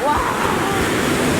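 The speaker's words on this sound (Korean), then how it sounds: "여기는 파도 소리가 가득합니다" Winter sea waves wash steadily onto the quiet beach at Gyeongpo in Gangneung, a close, continuous surf roar with a brief voice at the start.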